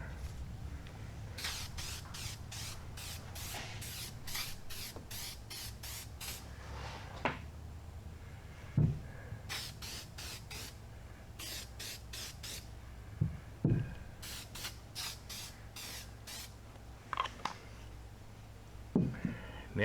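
Spray paint hisses in repeated short bursts as a third coat of black goes onto a John Deere MC crawler drive shaft, steady nearby spraying with a few faint clunks between passes.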